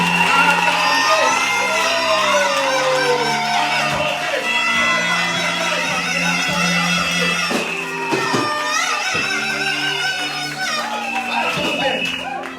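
A church congregation cheering and acclaiming a preacher, a loud crowd of whoops, yells and shouted voices rising and falling continuously throughout, with some talk mixed in.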